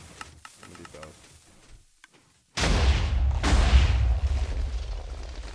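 TNT explosions in Minecraft arriving as two heavy, booming blasts in quick succession after a quieter stretch of clicks and taps, loud and close, the rumble lingering between them.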